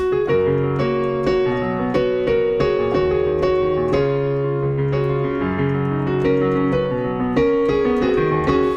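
Solo piano playing a pop song in a distinctive style, rhythmic chords with a moving bass line, close and clear with no talking.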